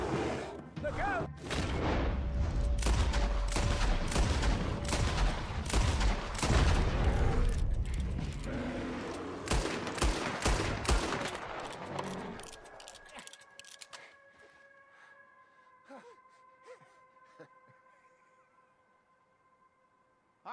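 Gunfire rattles through a Red Dead Redemption 2 firefight, with dense volleys of loud shots for about twelve seconds before the shooting thins out into sparse, fading pops under lingering ringing tones.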